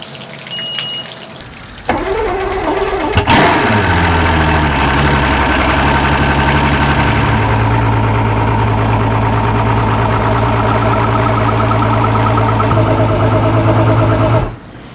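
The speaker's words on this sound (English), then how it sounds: "so I'm going to start this engine and let it run for 2 or 3 minutes" A boat engine starts and settles into a steady, loud idle as it warms up, running continuously with a constant low rumble until it cuts off near the end.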